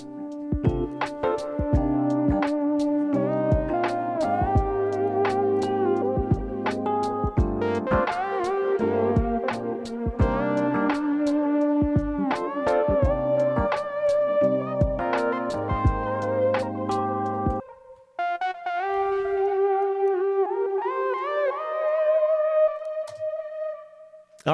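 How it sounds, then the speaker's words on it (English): A Cubase multi-tap delay patch with auto pan, overdrive and a reverb tail: a busy plucked melodic phrase repeats in rhythmic echoes, then thins into a quieter, wavering, stuttering tail near the end, with no voices. "you can hear as it dies out, that auto pan is kicking in and adding some really cool kind of stutter edits to it at the end"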